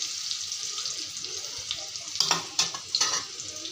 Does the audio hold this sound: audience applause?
no